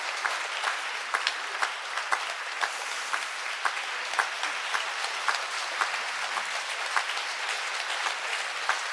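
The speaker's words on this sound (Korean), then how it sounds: "수녀님 건강하시라고 박수 쳐주세요." Steady applause from a concert audience honoring a nun's 60 years of religious life, a dense even patter of many hands with a few sharper claps standing out, moderately loud and continuous with no talk.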